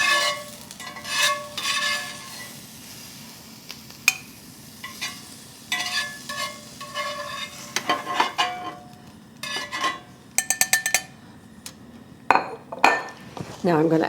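Cooked steak bites being transferred from a frying pan into a dish, with a soft sizzle beneath irregular clinks and scrapes of utensils against metal and dishware, close up; a voice speaks between the clatter.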